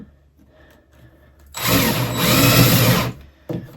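Power drill driving screws into plain wood paneling on an interior door, a loud close whirring burst of about a second and a half followed by a brief second spurt.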